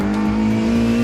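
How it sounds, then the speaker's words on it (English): A 145 bhp Mini race car on slick tyres howls past on a smooth circuit, its engine holding a loud, steady, buzzy drone at high revs for about a second, with no voices. "this 145 bhp racer is likely to be the fastest car around the circuit"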